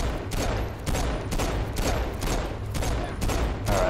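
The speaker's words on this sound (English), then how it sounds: "Where's the other one that's shooting at me?" Repeated bursts of gunfire in the video game Saints Row IV, several volleys in steady succession filling the clip at a loud, close level with no voices over it.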